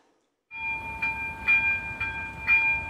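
At a railway level crossing on Rampová street in Košice, the barriers close as a warning signal starts after a brief silence, a steady sustained tone with a repeating pulse roughly every half second over low rumbling background.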